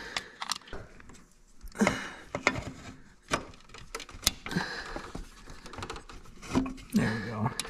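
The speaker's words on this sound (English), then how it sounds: "so we're just going to go ahead and cut it." A radiator hose on a GL1500 Honda Goldwing is cut, with a few crisp snipping and clicking sounds close by amid intermittent talk.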